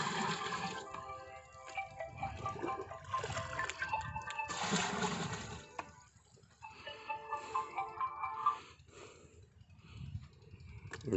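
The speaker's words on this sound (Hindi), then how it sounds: "अभी ये इसमें मज़ीद पानी डाल के इस ड्रम को पानी से फुल कर देंगे।" Water gushes and splashes steadily into a drum in a corn field for several seconds, briefly easing off before the rushing flow picks up again.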